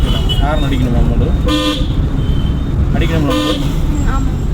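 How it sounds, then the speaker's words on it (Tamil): A car horn toots twice during a driving lesson, short bright honks about two seconds apart, heard over steady road and engine noise inside the vehicle. "ஹார்ன் அடிக்கணுமா?"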